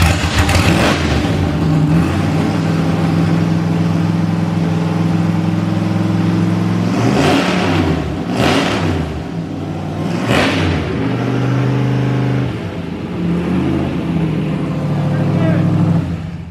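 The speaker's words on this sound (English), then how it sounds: "the loudest car in the garage. Let's hear it." A loud car engine roars steadily, with several sharp revs surging over the sustained rumble, close by and dominating throughout.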